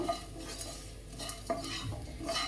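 Turmeric being stirred into a frying curry in a pan, quick metal spoon scrapes and clinks over a soft sizzle, close and without voices.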